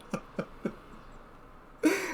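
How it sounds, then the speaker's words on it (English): A man coughs three times in quick succession at close range, each burst short and sharp, followed by a brief pause and then a louder, broader rough sound at the end. "coughed as soon as I tried to fucking say it"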